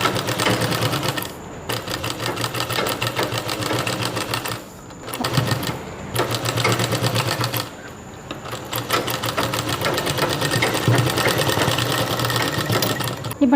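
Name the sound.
sewing machine stitching cross piece around baby dress neck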